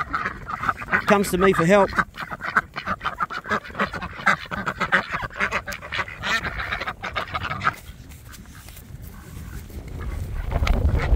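Farmyard ducks in a New Zealand spring, drakes squabbling as a bigger drake knocks another off a mating duck: loud raspy quacks and honking calls crowd together near at hand, with a voice speaking over them, then a quieter rustling stretch.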